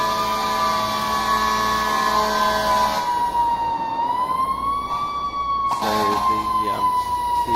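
Fire truck sirens in the EmergNYC emergency-response game, a loud wailing siren tone sliding up and down continuously, joined near the end by a second siren and a brief blaring horn.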